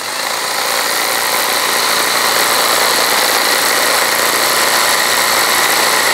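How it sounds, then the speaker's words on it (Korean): Milwaukee QUIK LOK cordless string trimmer cutting soft grass and lawn at ground level, a loud steady high-pitched motor whine with line hiss running continuously and close by. "이렇게 부드러운 풀들은 트리머로 충분히 작업이 가능하거든요"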